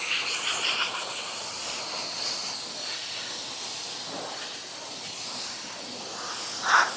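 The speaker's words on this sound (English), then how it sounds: "you could see the water being pushed out by the blower" A constant loud rushing blast of air from a pet blower pushing water out of a dog's wet coat, steady throughout with a brief sharper burst near the end.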